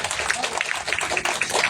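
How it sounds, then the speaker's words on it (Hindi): A church congregation claps together in a steady wash of many hands, loud and close, with a voice speaking over it. "ताली बजा सकते हैं इस बात पे।"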